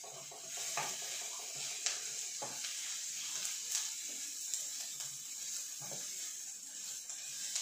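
Strips of celery and carrot sizzle and fry in a pot of vegan borscht, a steady bright hiss with scattered pops and stirring clatters, close by and with no talking.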